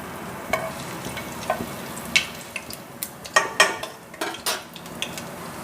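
Chopped ginger fries in hot oil in a pan for Indian-style masala pasta, giving a soft steady sizzle punctuated by scattered clicks and scrapes of stirring and utensil contact, with no talking.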